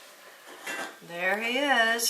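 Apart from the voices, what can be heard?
dog rummaging in cat food bowls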